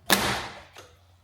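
Plastic taillight trim filler piece prised off a Ford Bronco, a single sharp snap followed by a short rattling decay and a faint second click, close and alone.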